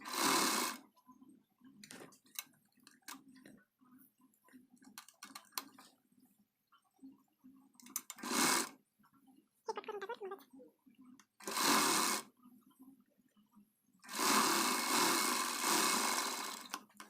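A sewing machine stitches a border design onto a long-sleeved blouse, running in loud, separate bursts of rapid whirring between quiet stretches and faint ticking handling sounds.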